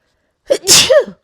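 A single sharp sneeze, close and loud, with a quick intake of breath before the burst and nothing else around it.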